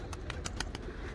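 Pigeons from a long-established breeding line coo softly inside a coop in a few quick pulsing calls, faint and close, with no voices.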